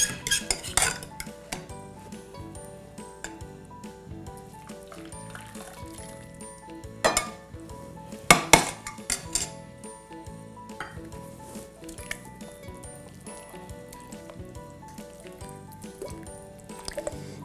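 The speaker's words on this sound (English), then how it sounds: "Now I'm just mixing this all the way through, making sure that it's not super clumpy." Sweet potato vegan donut batter is mixed in a large bowl, with repeated clinks and knocks of a utensil against the bowl and a few louder clattering hits over a quiet, wet stirring texture.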